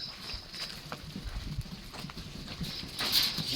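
Goats leave their shed on a farm, their hooves making faint, scattered clip-clop steps on the ground amid quiet background noise.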